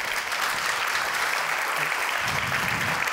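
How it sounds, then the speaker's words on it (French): Theatre audience applauding a master of ceremonies at a cultural season presentation, steady clapping from a crowd with a faint murmur of voices rising toward the end. "je vous demande d'applaudir notre maître de cérémonie, Laurent Seco."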